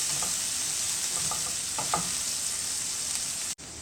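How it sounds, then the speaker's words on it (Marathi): Pieces of green chili being stir-fried in a pan give a steady, fairly quiet sizzle, with a few soft scraping stirs near the start and middle, close up and with no talking. "हिरव्या मिरच्यांचे तुकडे करून घेतले एक दोन मिनटं ह्याला परतून"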